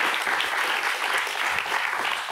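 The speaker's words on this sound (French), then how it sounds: "j'accueille tout de suite mon premier invité, c'est Frédéric Duval, que l'on peut applaudir" A television studio audience at a special anniversary broadcast of a daily tech show bursts into sustained, even applause, loud and unbroken throughout.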